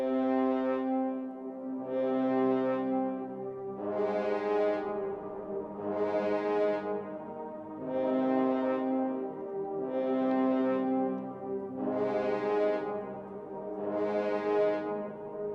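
Orchestral horns from a Symphony Orchestra software instrument play a slow melody through a delay and reverb effect, with seven swelling sustained notes blurring into long, smeared tails, loud and steady with no talking.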